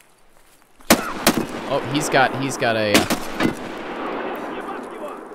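Loud M1911 pistol shots in Escape From Tarkov, several sharp cracks spaced irregularly, with a brief voice exclamation and weapon handling sounds between them.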